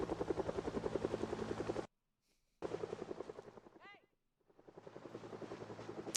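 Helicopter in Project Zomboid flying overhead, a loud rhythmic rotor chop that cuts out briefly, returns, fades away, then builds again, with a short high chirp in the gap.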